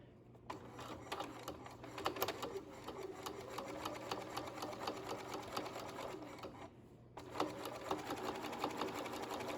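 A sewing machine backstitches along a zipper pouch, its needle chattering in quick close bursts with a brief pause near the end before the stitching resumes, and no voices.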